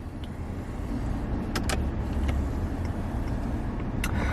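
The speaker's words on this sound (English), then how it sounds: "The screen does fold in and out." The folding dashboard screen of a 2014 Audi A8L 3.0T moves in or out on its electric motor, a steady low whir inside the cabin with a couple of faint clicks.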